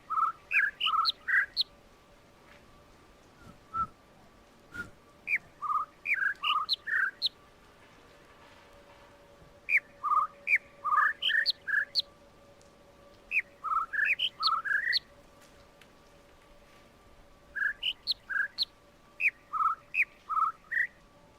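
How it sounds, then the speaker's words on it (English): Bird calls in the video game The Witness: repeated bursts of quick high chirps in clusters every couple of seconds, fairly clear over a faint steady tone, with no speech. "It is the high-pitched bird."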